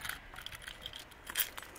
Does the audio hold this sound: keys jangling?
yes